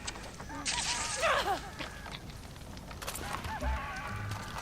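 Chickens cluck and squawk repeatedly over a steady, noisy background in the video game Far Cry 6, their calls rising and falling in quick bursts.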